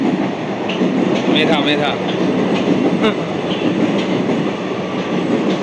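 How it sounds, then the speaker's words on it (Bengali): A Kolkata Metro train from Dakshineswar to Kavi Subhash passes near Baranagar station with a loud, steady rumble and rolling wheel noise, plus a few high squeals and clicks. A voice speaks briefly over it. "এটা যাচ্ছে কবি সুভাষগামী মেট্রো"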